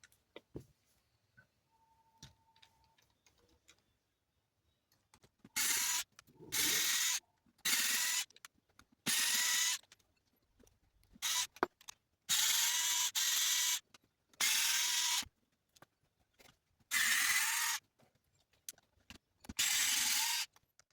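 A 2.0 driver bit removes screws from the shock tower and mounts of a 1/12 scale RC buggy, making bursts of loud, close ratcheting whirs that start and stop repeatedly after a quiet opening.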